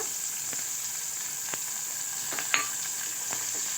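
Onion, tomato, curry leaves and chopped green chilli frying in a pan, giving a steady close hiss of sizzling oil with a few faint ticks and pops, no voices.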